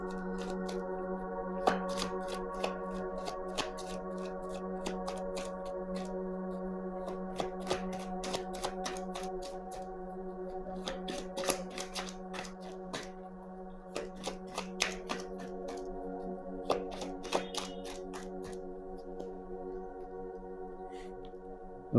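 A deck of tarot cards is riffled and shuffled over and over, with crisp card slaps and flutters in steady bursts, close up over a steady background hum.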